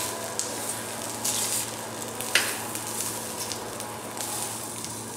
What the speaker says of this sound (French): On va cuire très peu nos gambas pour éviter d'avoir quelque chose de sec.